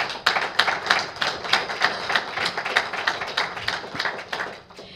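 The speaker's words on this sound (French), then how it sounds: "je pense qu'on peut l'applaudir une seconde fois" Applause at an association launch event, with a modest group clapping in uneven, fairly distinct claps at moderate loudness before tapering off at the end.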